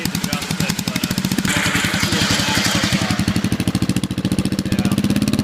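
A racing lawnmower engine idles roughly nearby, a loud, fast, uneven chugging pulse that surges and dips; the idle is out of adjustment.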